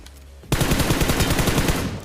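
Rapid automatic gunfire from a solo-versus-squad shooter video game bursts in at full loudness after a brief quiet moment and keeps up a dense, steady rattle of closely spaced shots to the end.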